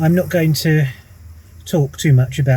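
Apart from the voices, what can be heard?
No everyday noise stands out behind the speech.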